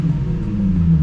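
A smooth V6 car engine idles in a low, steady hum with a faint even rumble, close by and brief.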